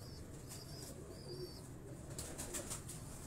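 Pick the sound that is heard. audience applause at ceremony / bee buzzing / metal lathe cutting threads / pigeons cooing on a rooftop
pigeons cooing on a rooftop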